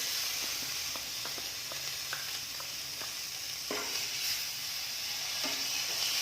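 Curry leaves and coriander leaves frying in a pan while being stirred, a steady close hiss and sizzle with light periodic scraping taps of the spatula, no talking.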